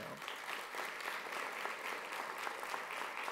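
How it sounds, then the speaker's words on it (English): Sustained round of applause from a conference audience at eGovLIVE 2013, dense steady clapping throughout at moderate loudness. "give them a big round of applause right"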